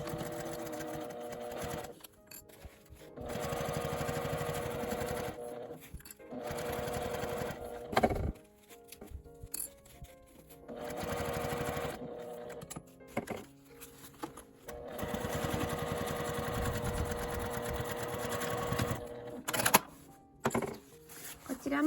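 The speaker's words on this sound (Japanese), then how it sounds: "同じように裏と表を合わせて端ミシンをかけます。" A sewing machine edge-stitches fabric for a zippered pencil case in several bursts of fast, even stitching, stopping and starting with short pauses and small clicks between runs.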